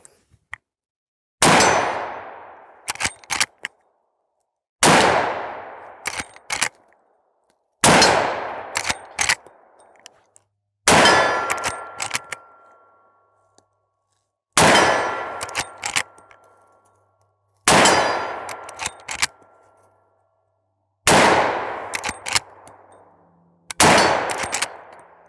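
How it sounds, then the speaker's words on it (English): A Marlin 1895 lever-action rifle in .45-70 fires about seven loud, sharp shots at steel targets, each crack followed by a ringing metallic clang and a decaying echo, with clicks of the lever action between shots. "Now compare the game's 45-70 to this Marlin 1895, chambered predictably in 45-70."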